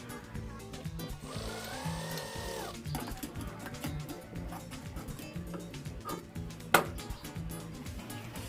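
A sewing machine stitches a cotton baniyan undershirt in quick, rhythmic runs of needle clatter, with short pauses, a sharp knock near the end, and a dog barking in the background.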